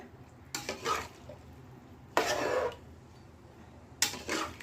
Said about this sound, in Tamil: இப்படியே லேசாக கிளறிட்டு